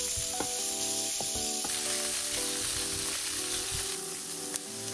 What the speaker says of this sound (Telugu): ముక్కలు లైట్గా క్రిస్పీగా మారే వరకు వేగనివ్వండి